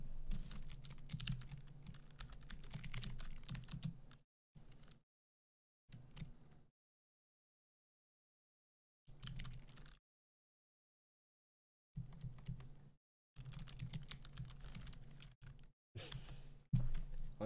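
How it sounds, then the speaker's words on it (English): Computer keyboard typing comes in close, fast bursts of clattering keystrokes, broken by several stretches of complete silence, with no voices. "I was typing"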